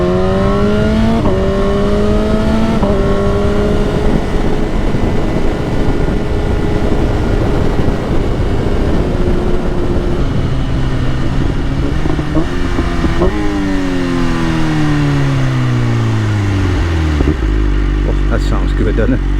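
A 2026 BMW M1000RR superbike with a full Akrapovic exhaust and tune revs loudly and close, its engine note climbing and falling through repeated sweeps before settling to a deep idle.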